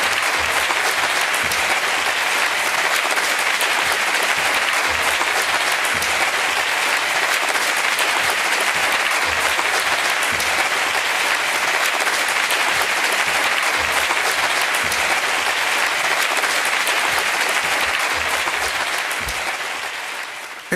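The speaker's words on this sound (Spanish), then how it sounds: "Recibamos con un aplauso a Antonio García Trevijano" A lecture audience gives Antonio García Trevijano a long, sustained ovation, dense uniform clapping rolling on loudly for about twenty seconds before it finally begins to fade.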